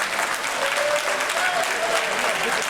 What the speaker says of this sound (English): Let's give our brother a thunderous round of applause.